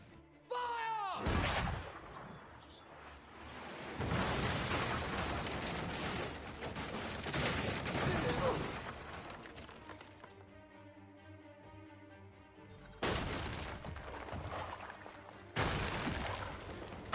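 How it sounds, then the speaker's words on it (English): Cannon fire booms again and again in the Assassin's Creed 3 video game, heavy blasts arriving in loud bursts with rumbling sustained noise between them and no talk. "Dodge the cannon fire."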